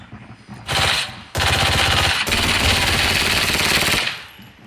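Automatic gunfire in the Arena Breakout shooter game, with a short burst followed by long, loud, rapid sustained bursts of rattling shots up close.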